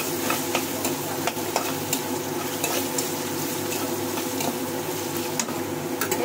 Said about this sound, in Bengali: দেখুন বন্ধুরা আলুটা কিন্তু ভাজা ভাজা হয়ে গেছে।